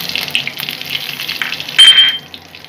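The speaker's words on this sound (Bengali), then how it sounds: "এখন আমি জিরে ফোড়ন দিই।" Cumin seeds tempering in hot oil give a steady frying sizzle throughout, which swells briefly louder near the end before easing back.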